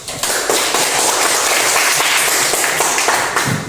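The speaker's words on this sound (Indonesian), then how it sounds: "Ya, kita beri aplaus." Loud, steady applause from a class filling the room, dense clapping sustained throughout with no speech over it.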